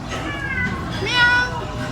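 A cat meows close by, a short drawn-out call that rises and falls and sits among people talking.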